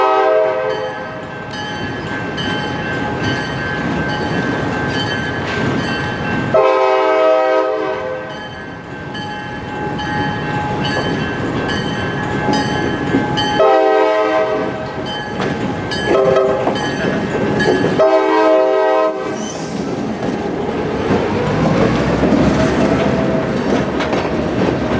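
A CSX freight train rumbles past close by heading west with a steady roar and clatter, its horn blaring in long, loud blasts over the noise.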